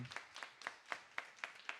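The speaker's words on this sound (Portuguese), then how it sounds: "vamos aplaudir então a Júlia e o Caloã pela indicação número 1" A small group in a youth council chamber claps sparsely, about eight distinct soft claps spaced at a slow, even rhythm, fairly faint and quiet in the room.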